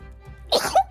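A single short sneeze from a person seated at a tabletop role-playing game, sudden and close after a quiet moment, bursting out in two quick parts.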